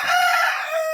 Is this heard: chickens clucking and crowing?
yes